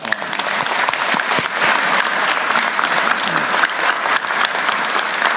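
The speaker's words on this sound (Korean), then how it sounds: "여기 또 박수 한번 쳐드릴까요?" An audience at a Korean government ministry work briefing breaks into sustained applause, dense even clapping from many people filling the room for several seconds.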